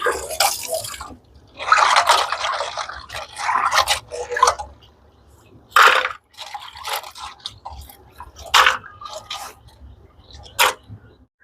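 Cleaned crabs being washed in water for a Jaffna crab gravy, with irregular splashes, drips and sloshing bursts at close range, separated by brief quiet gaps.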